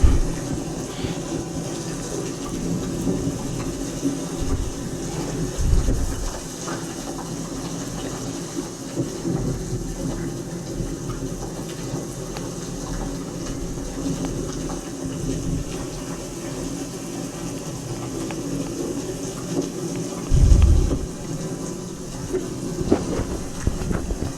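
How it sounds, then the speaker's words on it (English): Pouring rain falls during a storm chase in Texas, a dense, steady roar close around the listener with a few louder gusts of wind, and no talk. "even though it's pouring rain where we are"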